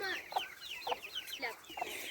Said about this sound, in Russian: А, квочка с цыплятами.